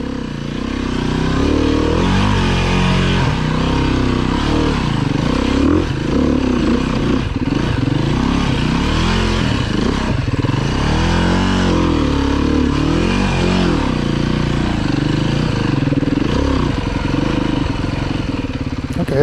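A heavy, overpowered motorcycle rides a slick, wet trail, its engine loud and close throughout, revving up and down steadily with no break.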